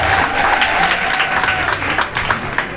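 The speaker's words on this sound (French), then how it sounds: "Donc je demande qu'on applaudisse encore monsieur le maire." An audience applauds the mayor at a public gathering, producing continuous, fairly loud clapping with irregular sharp hand strikes and a faint voice or tone running beneath.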